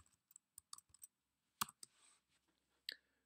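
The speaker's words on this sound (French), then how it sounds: "Je clique sur enregistrer." Computer mouse clicks during form entry in tiers-payant management software: a handful of short, crisp, faint clicks spaced irregularly, one slightly louder click near the middle, with no voices.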